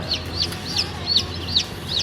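Chicken and quail chicks chirp close by in shrill, high peeps that repeat roughly every half second, over a low background rumble.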